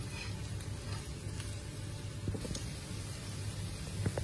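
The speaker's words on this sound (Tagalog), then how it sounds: "nagigisa na tayo ng sibuyas at bawang para sa ating pork apritada" Onion and garlic sautéing in hot oil in a pan for pork afritada, a steady close sizzle with faint crackles and a few stirring scrapes, no talking.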